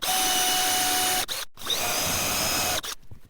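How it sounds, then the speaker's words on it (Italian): An electric drill bores a hole into wood while a dowel centre-marker is used, running in two close, steady bursts separated by a brief pause, with no talking. "vado esattamente a beccare il puntino con la punta del trapano, quindi praticherò il foro esattamente in questo punto"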